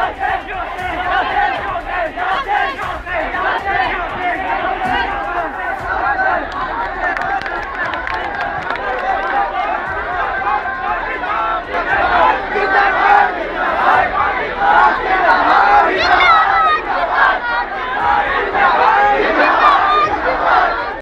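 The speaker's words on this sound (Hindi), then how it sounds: "भीड़ पाकिस्तान जिंदाबाद के नारे लगा रही है" A large street crowd chants slogans in unison, loud and rhythmic, with overlapping shouting voices and a busy babble of many people sustained throughout and swelling in intensity toward the end.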